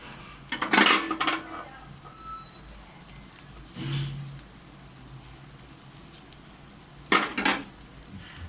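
Whole tomatoes dry-roasting in a pan without oil are turned over with a utensil, giving two short bursts of metallic clatter and scraping, with a soft knock between them and quiet gaps around them.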